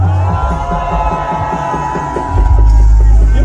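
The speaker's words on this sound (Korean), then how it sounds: "응원의 함성 부탁드립니다. 함성!" A political rally crowd roars and cheers loudly, with a rhythmic throbbing chant and the shouting swelling louder toward the end.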